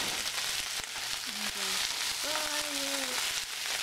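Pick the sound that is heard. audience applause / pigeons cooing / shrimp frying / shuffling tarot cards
shrimp frying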